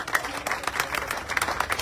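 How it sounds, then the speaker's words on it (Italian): A crowd claps in applause for a slate of mayoral list candidates at a political rally in Palermo, Sicily; the clapping is steady and moderately loud, with some voices mixed underneath. "va fatto un applauso a tutti i candidati e alle candidate"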